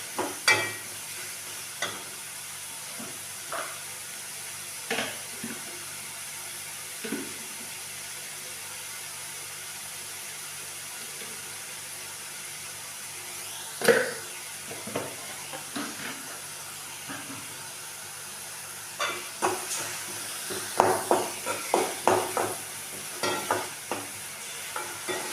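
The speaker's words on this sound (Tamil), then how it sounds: "நல்லா பச்சை வாடை போகிற வரைக்கும் கொஞ்சம் நல்லா வதக்கணும்" Onions, green chillies and ginger-garlic paste are stir-fried for momos, giving a low, steady sizzle in the pan. Scattered scrapes and clinks from stirring come through, growing busier toward the end, and nobody speaks.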